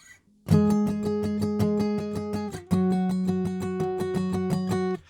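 Guitar octave notes picked in a fast, even pulse, pausing briefly before a slide up the fretboard to higher notes that continue the same repeated pattern.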